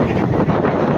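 Heavy wind buffeting a microphone outdoors, a loud, continuous low rumbling roar with no pauses across the whole brief moment.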